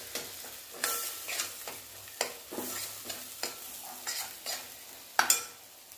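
Gravy with red chilli powder fries and is stirred in a pan, with a steady sizzle broken by repeated scraping strokes of a spoon at a regular pace and a sharp clatter near the end.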